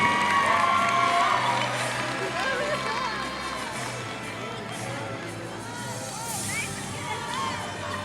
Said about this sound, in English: let's give a big round of applause to our second team selection for 3A North girls